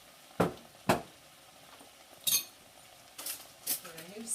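A metal spoon clinking against dishes and pots while vegan vegetable soup is cooked, several sharp separate clatters, some doubled, close by in a quiet kitchen with no one talking.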